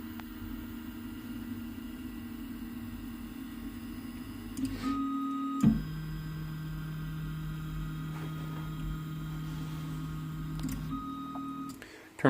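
An MPCNC CNC machine homes its axes, giving a steady stepper-motor whine and hum with brief pitch changes and short pauses as each axis moves, fairly quiet and heard without talk.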